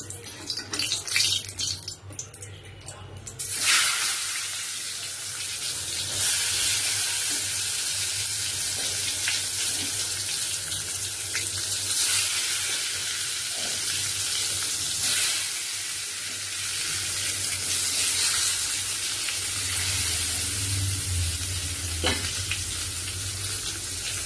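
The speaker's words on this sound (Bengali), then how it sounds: "এবার বেগুনটা ভেজে নেবো" Eggplant frying in leftover fish oil in a wok gives a steady, close sizzle with stirring, starting after a brief rustle and then holding level and loud throughout.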